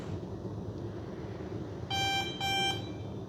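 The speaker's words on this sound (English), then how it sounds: "then there's going to be a long beep" Two clear electronic beeps from an FMS T-28D Trojan model plane's speed controller sound one after another over a quiet background hum, each lasting about a third of a second.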